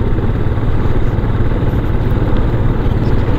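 A motorcycle rides along a rough gravel road, its engine droning steadily under a constant broadband rumble and crunch of tyres on loose stones, close and even.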